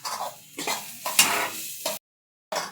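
Garlic and green chillies sizzle in a hot pan, sounding as a few loud, hissing bursts of frying with stirring scrapes, ending in a brief silence and then one more burst.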